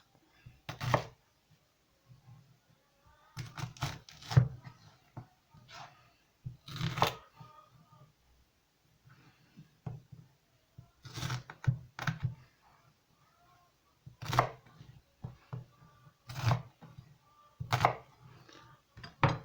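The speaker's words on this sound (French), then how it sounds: "Pour les oignons, c'est pareil. On les coupe en 2 et on les coupe aussi en 2." A knife cuts onions on a cutting board with sharp, knocking chops that come in short bursts separated by pauses, close and clear in an otherwise quiet kitchen.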